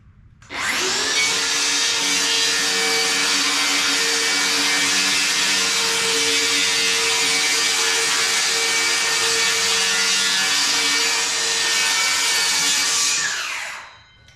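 A power saw cuts an inch off a piece of wood in one sustained, loud whining buzz that starts abruptly, holds steady for about twelve seconds, then winds down, with no talking.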